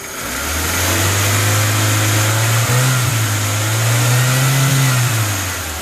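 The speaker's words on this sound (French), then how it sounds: "j'ai donné quelques coups de gaz" A car engine is revved with the accelerator while a mass airflow sensor is being checked, a loud close engine rising from idle into sustained higher revs, easing and climbing again without talk.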